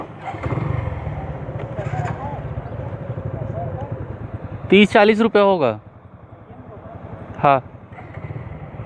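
A Suzuki Gixxer SF motorcycle rides along the road toward Korba with a steady engine and wind drone. A person talks over it, and a couple of short horn toots cut through near the middle and end.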